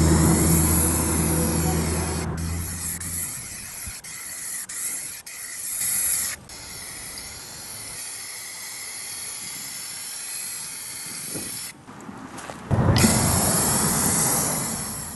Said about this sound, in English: I just sprayed this down with a pressure washer